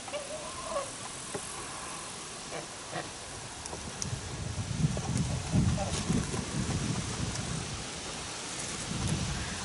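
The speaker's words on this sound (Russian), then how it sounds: "Прям вьюжит, вьюжит." Stormy weather with wind, steady rain and low rumbles of thunder building in the second half, a continuous wash of noise with faint background sounds.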